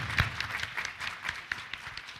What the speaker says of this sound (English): We should definitely clap.